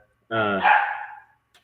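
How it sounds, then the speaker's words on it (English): A dog gives a single close, loud bark-like yelp that trails off, heard on its own without talk, with a faint click shortly after. "Just barks a little bit."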